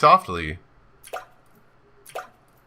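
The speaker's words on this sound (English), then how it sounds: "The sound of drops resonating all around me." Water drops fall one at a time in the video game Sound Of Drop: Fall Into Poison, two separate clear plinks a second apart, each ringing briefly in an echoing quiet space after a short voice at the start.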